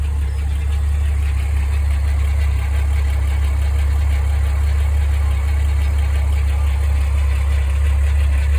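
A VW Corrado VR6 engine idles steadily with a deep, continuous low rumble and even vibration, running alone without any talk throughout.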